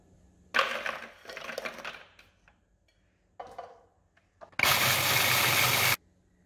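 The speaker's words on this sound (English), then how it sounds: "take your biscuits and crush them in your food processor" A food processor crushes biscuits in a kitchen, with bursts of harsh grinding and rattling, a short pause, then a loud, steady blending roar lasting just over a second before cutting off.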